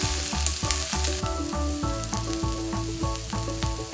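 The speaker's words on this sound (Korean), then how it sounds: "달군 팬에 기름을 두르고 양파를 넣어 투명해질 때까지 볶은 뒤" Onions stir-frying in oil in a hot pan, a steady bright sizzle with regular rhythmic scraping and tapping of a utensil against the pan, close and without talk.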